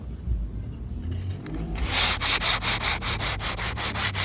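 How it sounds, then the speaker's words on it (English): Sandpaper rubs the sharp edges of a wooden rocking chair, first in quiet scuffs and then in about ten loud, rhythmic strokes close by, with no talking. "I'm going to sand all of them down"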